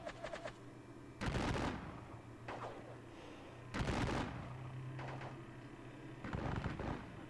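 Musket volleys in the WDS Gettysburg computer wargame crack out in three separate bursts of rattling fire a few seconds apart, each fading quickly over a faint steady background hum, with no voices.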